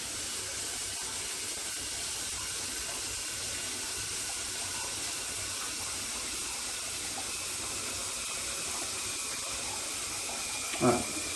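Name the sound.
shower water running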